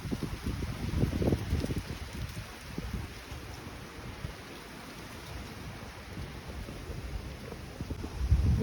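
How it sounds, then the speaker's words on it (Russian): Strong wind in Yalta during a snowstorm, at about plus one degree Celsius, roaring as a steady low rumble with heavier buffeting gusts near the start and end, no voices. "Очень сильный ветер и плюс 1 градус по Цельсию."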